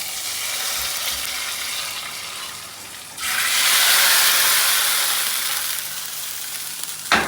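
Mustard seed tempering for mango pulissery sizzles steadily in hot oil, then flares into a loud, bright hiss as it is poured into the curry, slowly settling into a softer crackle, with no talking.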